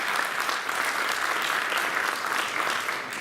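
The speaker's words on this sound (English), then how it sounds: "Round of applause for Mike" A conference audience at the closing keynote of the Dutch PHP Conference 2018 gives an even, steady round of applause, many hands clapping together at a moderate distance and filling the room without a break.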